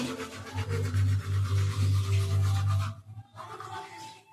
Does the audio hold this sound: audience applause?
no